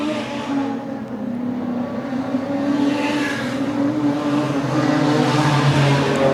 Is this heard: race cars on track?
yes